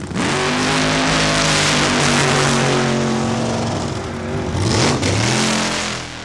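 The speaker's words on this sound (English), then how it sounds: "That's what happens when a double A fuel rail lays down a good number." A 1977 AA fuel dragster tears down the quarter-mile strip at Santa Pod, its engine a loud, sustained roar with rising harmonic pitch that swells again near the end as the car screams past.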